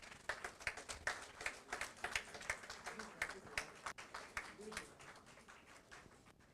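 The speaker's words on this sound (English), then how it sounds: "Please give a huge round of applause for releasing the souvenir for ISPN India Conference" An audience at the ISPN India Conference 2024 applauds for the release of the souvenir, a steady, dense patter of many hands clapping in a hall for several seconds.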